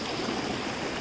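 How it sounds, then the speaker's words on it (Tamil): Waterfall on a Kolli Hills trek, a steady broadband rush of falling water pouring into a chest-deep pool, continuous and fairly close with no talk over it. "இங்கே ஒரு ஃபால்ஸ் இருக்குது."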